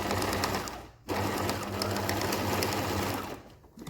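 A sewing machine runs in a steady, fast mechanical whir while stitching a quilted waistcoat, stopping briefly twice and then running on, close and loud.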